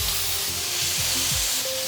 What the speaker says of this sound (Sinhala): අබ ටිකක් දාගන්නවා. කාඩමම්, සූදුරු දාගෙන ටිකක් බැද ගන්නවා.